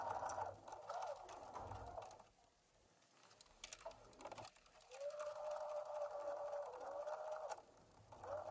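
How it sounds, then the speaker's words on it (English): A sewing machine stitches a short diagonal line on a ribbed knit neckline, a close, steady whirring hum of the motor running in bursts, pausing briefly in the middle before running again. "now we're going to stitch in a little diagonal"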